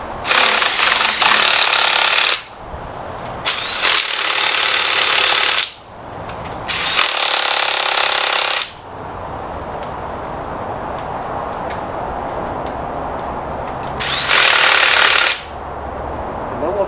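An impact tool drives lug nuts onto the wheels of a front-wheel-drive Lexus ES 350 during a tire rotation, firing in loud, close rattling bursts of a couple of seconds each, separated by brief pauses, with no talk.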